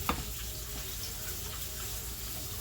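Festival dough, a fried dumpling, cooks in a frying pan with a steady, fairly faint hiss that holds evenly throughout, with no talking.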